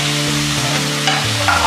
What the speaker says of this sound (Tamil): தக்காளி சேர்த்துட்டு நல்லா மசாலா வரைக்கும் கிளறிட்டே இருங்க.